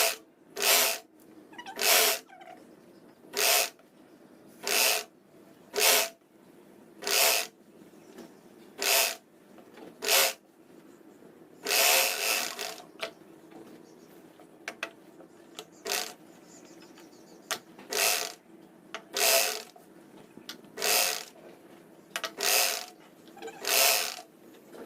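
A sewing machine runs in short bursts stitching the sleeves onto a shirt being refitted, with a rapid mechanical clatter repeating about a dozen times between pauses, close and clear with no talk.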